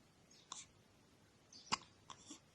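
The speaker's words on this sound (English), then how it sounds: "You always get into hiccups." A baby hiccups softly three or four times in a quiet room, each hiccup a small sharp catch, close and faint with no talking.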